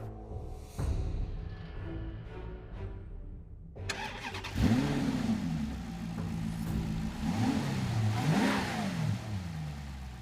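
A Maserati GranTurismo MC Stradale engine turns over and fires up, then revs hard several times, rising and falling in pitch, loud and close.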